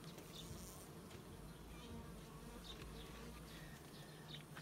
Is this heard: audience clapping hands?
no